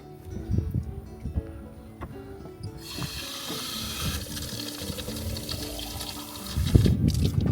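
Water runs from a tap into bottles on a coastal hike, first as quieter splashing with knocks and handling, then as a steady rushing flow that grows fuller as the bottles fill.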